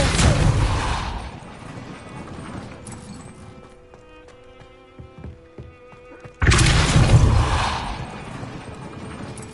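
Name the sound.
Confringo spell blast from video game Hogwarts Legacy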